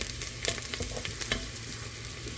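Flour being stirred into sizzling olive oil for gravy for smothered pork chops gives a steady, close frying hiss with soft scraping stirs and small crackles throughout, no voices.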